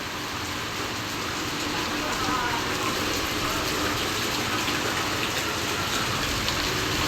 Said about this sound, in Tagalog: Talagang baha na talaga.